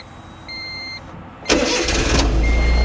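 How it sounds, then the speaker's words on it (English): A Honda Beat's small engine cranks and catches, settling into a steady idle close by after a brief electronic beep from the car, with no talk over it. "We're just going to start the car."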